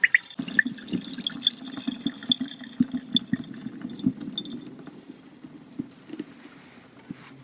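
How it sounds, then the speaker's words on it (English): Starchy water from grated potatoes for latkes is poured slowly over the edge of a bowl, trickling and dripping steadily at close range with small splashes and no talking. "I'm going to very gently and slowly pour out the water running over the edge"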